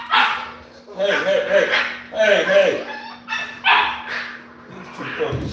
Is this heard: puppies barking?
yes